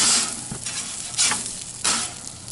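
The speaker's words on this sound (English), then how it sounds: "You can see we're getting a sizzle on the fat piece there." Close, steady sizzling of T-bone steak fat frying in a pan, with a few louder hissing surges and light scraping, no talking.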